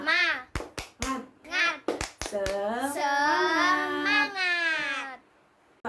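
Children in a sixth-grade primary school lesson perform a rhythmic clap chant, with sharp, evenly timed hand claps alternating with short chanted words, ending in a drawn-out vocal phrase without clapping.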